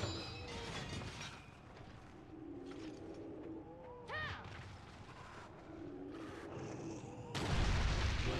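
Wyvern Fire blast in a video game, a series of booming, gunfire-like bursts and crashes at moderate level with chirpy game effects, building to a loud sustained blast at the end.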